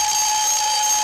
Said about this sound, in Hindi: अलार्म को बंद करो ना